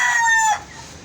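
A white Kelso rooster crows once, close and loud. The call lasts about half a second and then drops away to quiet background.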